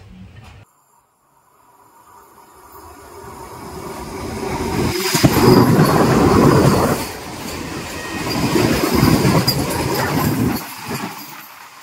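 A long-distance train from Coimbatore to Mumbai on the Konkan Railway rumbles along, swelling from near quiet into a loud, roaring run of wheels and carriage rattle, with brief sharp clanks.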